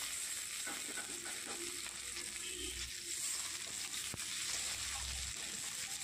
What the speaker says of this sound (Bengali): এরপর টমেটো কুচি দিয়ে দেব।